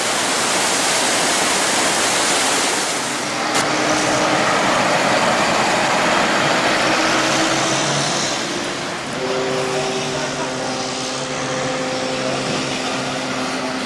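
Powerful motors of a BC ferry running between Tsawwassen and Nanaimo, producing a loud, continuous roaring rumble with a rushing broadband wash and faint tonal hum, steady for the whole stretch with no talk.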